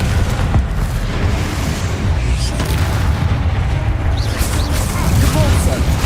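Confringo fire spells burst in a Hogwarts Legacy battle: dense, loud booming explosions rumble continuously over a noisy combat mix, with voices shouting spell names throughout.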